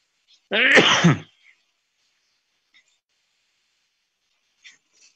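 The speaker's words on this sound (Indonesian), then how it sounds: "ntar saya bersin" A single sharp sneeze from a person, close and loud, followed by near silence with a few faint small sounds.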